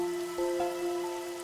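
Continuous rain hisses evenly over the streets in the video game Master Detective Archives: Rain Code, under soft sustained music tones, with no talking.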